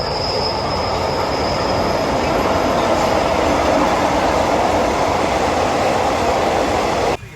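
A train runs along a new elevated dual track on Thailand's Bangkok to Hua Hin line. It makes a loud, steady rumble with a high wheel squeal throughout, then cuts off abruptly near the end.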